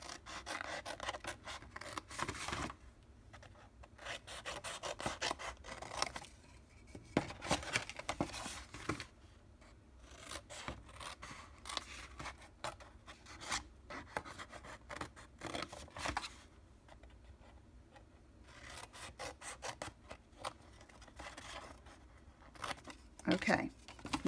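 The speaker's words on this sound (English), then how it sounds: "let me get my paper snips and cut that off" Paper snips cut through card stock at a crafting table, producing a steady series of close, crisp snipping and rustling sounds with brief pauses, faint and without talk.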